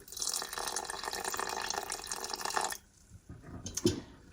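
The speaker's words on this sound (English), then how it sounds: "This is 285 grams of a warm water" Warm tap water pouring steadily into a bowl for sourdough, a continuous close splashing stream for nearly three seconds, then a quieter pause and a few small drips and a soft knock.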